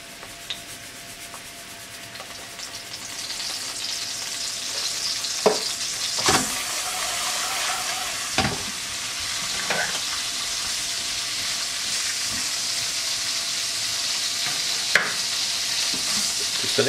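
Dandelion vegetables sizzling and frying in a pan while being stirred, with a steady hiss punctuated by a few sharp scraping and clacking strokes of the utensil, close up with no talking.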